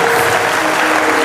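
A church congregation claps and cheers in praise of Jesus, dense sustained applause filling the room at close range, with no break in the noise.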